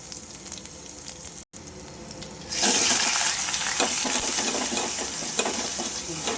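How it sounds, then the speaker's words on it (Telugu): Garlic paste fries in a pan as it sits on residual heat after the stove is turned off. A quieter sizzle with stirring scrapes is briefly cut off, then swells into a louder, brighter, steady frying hiss. "ఆ వేడితో ఎల్లిపాయ అనేది ఫ్రై అయిపోతుంది"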